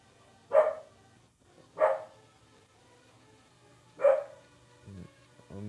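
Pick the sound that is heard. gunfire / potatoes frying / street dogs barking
street dogs barking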